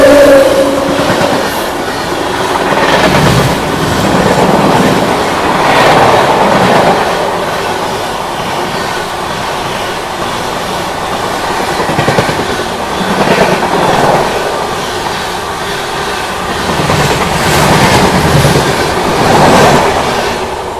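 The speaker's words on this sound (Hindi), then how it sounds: "तो भाई साहब ये आ रही है विक्रमशिला एक्सप्रेस अभी ओवरटेक करने अपनी स्पेशल फेस्टिवल एसी एक्सप्रेस को 130 पे" The Vikramshila Express passes at about 130 km/h while overtaking a special festival AC express, a loud, close, continuous rumble with rhythmic clickety-clack of wheels over rail joints and surges as carriages pass, lasting throughout.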